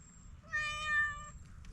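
A domestic cat outdoors on a muddy rural property gives a single clear, drawn-out meow, close by, over a low background rumble.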